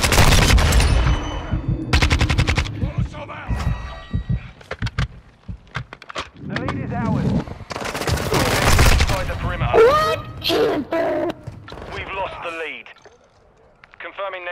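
Sharp rifle shots from an SPR in a shooter game crack in quick clusters, loudest early and again midway, while someone talks over the action.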